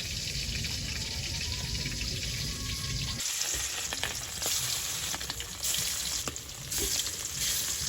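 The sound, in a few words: Hilsa fish curry with potatoes boiling in a pot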